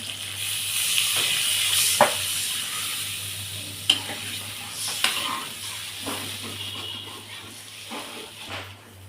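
Water poured into frying masala for a Bengali shing fish curry with bori, a close hissing sizzle and steam with several sharp ladle knocks and scrapes over a low steady hum, no voices.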